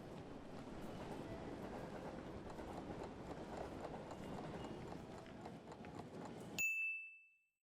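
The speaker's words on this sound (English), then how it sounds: "Passing train." A train passing through a station, a steady rumbling rush of wheels and carriages with faint rhythmic clatter, ending with a sharp bright chime before fading into silence.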